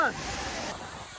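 A steady rush of falling water from Agaya Gangai Falls in the Kolli Hills fills the whole clip, broad and close. A brief high tone at the start fades into the roar.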